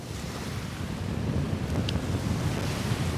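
Surf washing onto a beach at a Holguin resort, with steady wind buffeting the microphone throughout and no voices.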